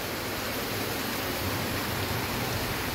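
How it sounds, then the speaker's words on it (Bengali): Heavy October rain pours down on a flooded street in a dense, continuous roar of steady hiss that never lets up, with no voices. "বৃষ্টি যা থামার নাম নিচ্ছে না"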